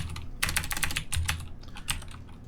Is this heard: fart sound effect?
no